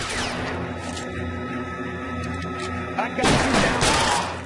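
Gunfire in the video game L.A. Noire: a dense burst of shots near the end follows a rumbling stretch of distant fire, fairly loud.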